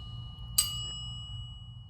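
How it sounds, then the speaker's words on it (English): A Noodle Kit chime plate struck once with a bolt while held lightly at the center gives a bright metallic ping with a sustained ringing tone over a low steady hum. "For a resonant sound, tap the chime plate with the bolt while gently holding the center of the chime plate with 2 fingers"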